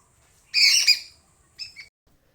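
Birds call in a village courtyard: a loud, bright burst of chirping followed by a shorter, quieter chirp a second later, with nothing else in the background.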